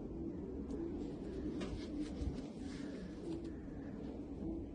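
Pigeons coo softly in a loft, a low murmuring hum running steadily under faint background noise with no talk.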